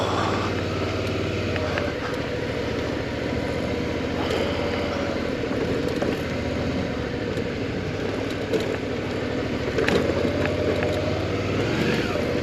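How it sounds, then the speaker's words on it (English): Car driving hard over a sandy, gravelly riverbed, its engine droning steadily with low rumble and crunching tyre noise throughout, close and continuous, with brief louder bursts as the wheels slip. "I don't know whether you can tell the skids when I'm driving"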